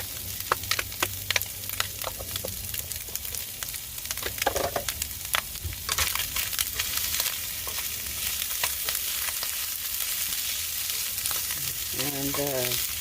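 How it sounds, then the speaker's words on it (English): Sliced deli meat frying in a pan with curry powder, a steady close sizzle with scattered pops and spatters and occasional stirring scrapes, continuing throughout. "And the deli meat is all nice and fried."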